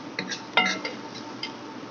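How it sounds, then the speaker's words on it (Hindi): Keema served from a pot onto a plate: a few light clinks and scrapes of a spoon against metal and the plate, sparse and close, with quiet gaps between. "ये मैंने एक प्लेट ले ली और इसमें मैं डालने लगा।"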